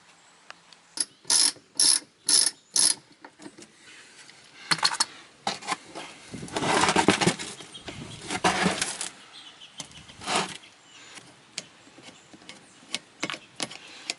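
Ratchet loosening the rear brake caliper screws on a 2004 Dodge Durango: four quick bursts of ratcheting clicks close to the ear, then longer, looser ratcheting and metallic handling noises, with no talk.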